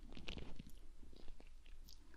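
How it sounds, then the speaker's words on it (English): Bubblegum being chewed close up during an ASMR-style cranial nerve exam roleplay, with soft, irregular moist smacking and clicking bites repeating steadily over a couple of seconds, no talk. "I'm going to ask you to chew this piece of gum."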